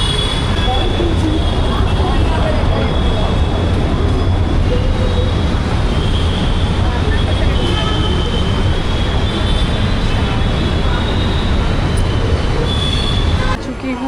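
Steady loud rumble and rattle of a metro train in motion, with wheels clattering on the rails throughout and a faint squeal near the end.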